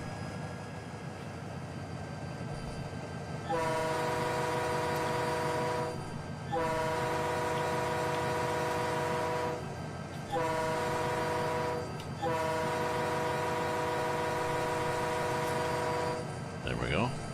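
In Train Simulator 2019, a GP20 diesel locomotive on the Blackwood Creek route sounds its horn in four loud, sustained chord blasts separated by brief pauses, over a steady low engine drone.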